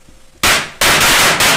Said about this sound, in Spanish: Prendió un petardo en su habitación, amigos.